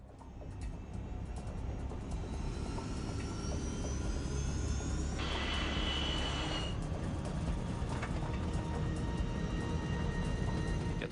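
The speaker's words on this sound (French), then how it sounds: "Autorisé à décoller." A Boeing 737 jet airliner takes off, a steady loud engine roar with rumbling low end building across the whole stretch, no talking.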